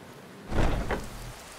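Rain falls at night in the video game Skyrim: a soft, steady patter swells into a louder rumbling burst mid-way, then settles back to a wet hiss.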